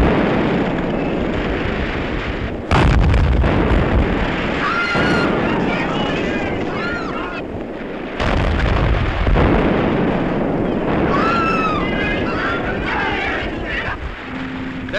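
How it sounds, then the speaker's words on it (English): Gunfire and explosions at sea in a 1939 wartime film scene, heavy booming blasts and rumbling bursts loud throughout, with sharp cracks around the middle and background voices and chatter under the noise. "There's firing around that headland."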